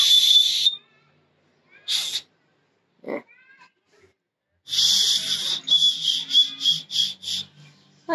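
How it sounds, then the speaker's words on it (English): A small emergency whistle on a fire starter blown in several short, shrill blasts: a couple of single toots, then a rapid series of pulsing peeps near and fairly loud. "It also has a little emergency whistle."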